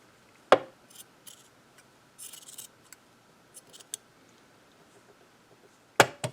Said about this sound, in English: I'm going to cut that little bit of lace off.